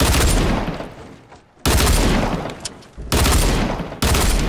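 Rapid gunfire from a Fortnite match, with bursts of loud shots and explosive booms cutting in and out in quick succession, close and dense with no talking.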